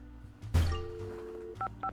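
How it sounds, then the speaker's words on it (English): A phone number is dialed in a Nancy Drew video game: a loud thunk of the handset, then a short run of clear, beeping dial tones, two brief tones near the end. "Maybe I should try out this phone number"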